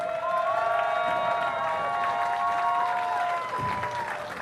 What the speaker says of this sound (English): how about a nice round of applause for our two finalists?